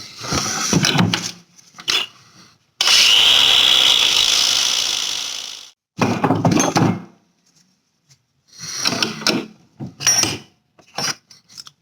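A power tool whirs close by in short bursts while making a slingshot from a figure 8 descender, with one longer steady run of about three seconds between quieter pauses.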